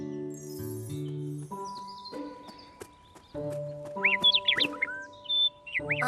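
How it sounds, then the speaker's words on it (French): A cartoon bird singing gaily in an orchard tree in a children's animated series, giving quick bright chirps and tweets in the second half over simple sustained music notes. "Un oiseau chante gaiement dans un arbre."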